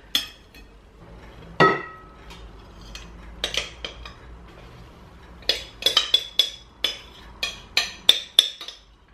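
Metal spoon clinks against a mixing bowl as melted butter and chocolate are folded into chocolate peanut butter muffin batter; close, irregular sharp taps, sparse at first, then quicker clusters of clinks toward the end.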